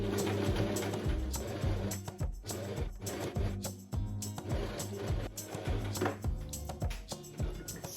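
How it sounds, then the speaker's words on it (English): A domestic sewing machine runs a straight stitch on a linen skirt, in rhythmic bursts of rapid mechanical chatter broken by short pauses, heard close and alone. "I can now sew those two parts together with a straight stitch."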